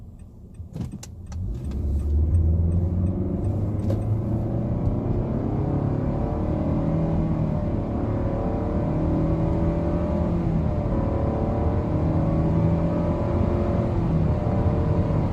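A Nissan Altima 2.5 SV with a CVT accelerating smoothly, its engine pitch rising steadily with no gear-change breaks, after a brief clunk at the start; no one speaks.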